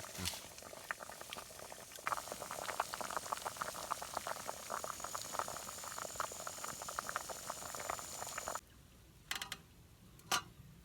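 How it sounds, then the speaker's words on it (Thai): Fresh corn cobs boil steadily in a pot, a dense continuous bubbling that holds for most of the stretch before cutting off into near quiet with a few faint knocks. "ซอรี่นี่เขาต้มประมาณ 10ปลายนาที น่าจะพอดีสุก"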